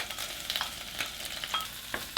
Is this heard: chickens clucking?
no